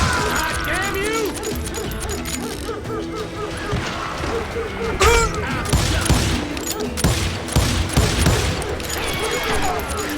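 Rapid gunfire and shots crack in a Call of Juarez Gunslinger shootout, dense bursts over game music and effects, with someone talking over the action.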